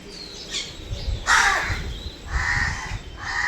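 Crows cawing outdoors near a spot where sparrows and squirrels are being fed, a few harsh calls in separate bursts, moderately loud over light background noise.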